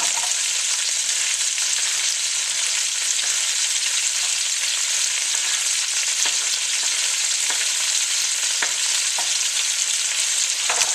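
Squirrel pieces fry in a pan with tomatoes, giving an even, close sizzle with scattered soft crackles and pops throughout and no talking.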